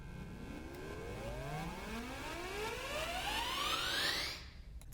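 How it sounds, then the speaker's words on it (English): An aggressive uplifter effect from an Ableton Live production of a song sweeps steadily upward in pitch over a dense noisy bed for about four seconds, then cuts off abruptly. "I also have another uplifter that I used in a different section of the song."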